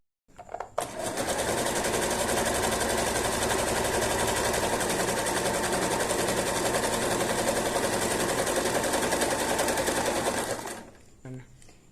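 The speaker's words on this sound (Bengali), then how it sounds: "আস্তে আস্তে ফুড কন্ট্রোলটাকে চাপ দেবো আর সেলাই হতে হবে" An Usha Janome Allure Dlx sewing machine runs in one continuous, fast stitching stretch of dense mechanical whirring for about ten seconds, close and steady, starting and stopping abruptly, with faint clicks at either end.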